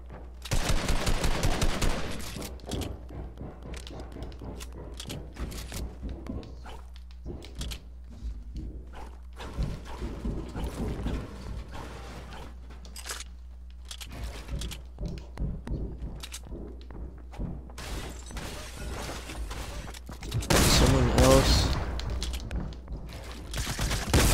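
Rapid gunfire bursts in the video game Junkrift, loud repeated shots and fusillades crackling almost continuously through the whole stretch, with a heavier burst near the end.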